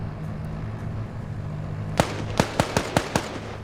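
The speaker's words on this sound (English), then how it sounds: "Grenade gets thrown into the mix." In an Arma multiplayer battle, a distant thud followed by a quick volley of sharp reports cracks out over a low steady engine-like hum.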